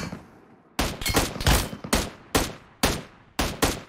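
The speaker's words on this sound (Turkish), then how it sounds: "sıkıyorlar lan." Repeated bursts of gunfire from a PUBG Mobile ranked match, loud and close, with several sharp volleys spaced about half a second to a second apart over the whole stretch.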